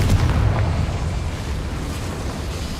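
Explosive spell blast in the Hogwarts Legacy video game, a dense, loud rumbling burst with a booming low end that stays heavy and sustained for nearly three seconds.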